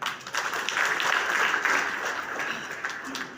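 An audience claps in a steady, moderately loud wash of applause that holds through the moment and eases slightly toward the end.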